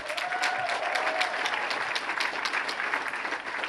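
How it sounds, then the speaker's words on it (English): A gala audience applauds Marcia Fudge with a dense, continuous roar of many hands clapping, steady and fairly loud throughout, with a faint tone briefly sliding through early on. "Please, a round of applause for Marcia Fudge."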